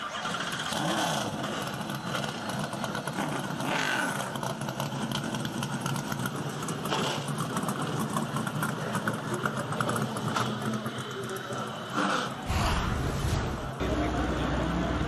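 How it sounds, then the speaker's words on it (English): Whelen Modified race car engines at Stafford Motor Speedway fire up and idle together in a dense, loud, steady roar that lasts throughout, with a crowd and a public-address voice faintly underneath. "Drivers, start your engine!"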